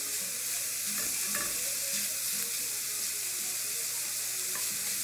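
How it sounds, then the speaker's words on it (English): Chopped bacon sautéing in a pan as a filling for stuffed fried dough, a steady close sizzle with occasional scrapes and clinks of stirring. "While this is sauteing well and nice halfway cooked"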